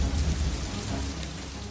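Steady heavy rain hissing down with a low thunder rumble rolling underneath, continuous and close, with no voices.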